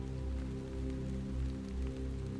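Rain falls in the video game Hollowbody, a steady soft patter of drops on surfaces over a low ambient drone, heard alone without any talk.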